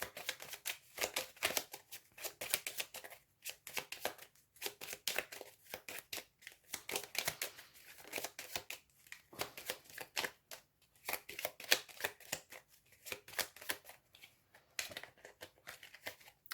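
Oracle cards shuffled and drawn, with quick papery riffles and flicks in a dense, steady, fairly close rhythm that stays faint and runs on without speech.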